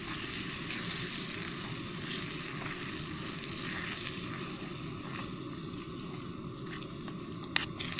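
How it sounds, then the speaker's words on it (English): Sauce bubbling and sizzling steadily in a pot on a camping stove outdoors, a constant close frying hiss with soft popping throughout and no talking. "I've only just put that sauce in and it's already bubbling"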